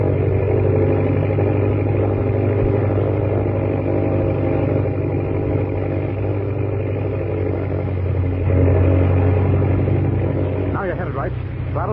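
An airplane engine droning steadily as the plane flies low through a narrow gorge in a radio drama, a loud continuous rumble with a voice briefly heard near the end.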